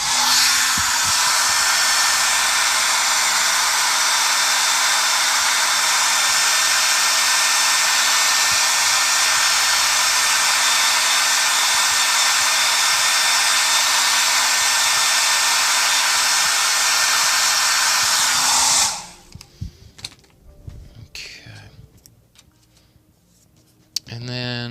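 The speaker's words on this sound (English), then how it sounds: "So I'm going to blow dry that." A hair dryer blows on wet acrylic paint with a loud, steady whoosh and hum for about eighteen seconds, then cuts off, leaving quiet rustling and small handling sounds.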